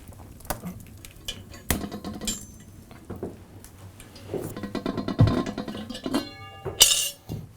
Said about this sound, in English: I'm putting the potatoes in.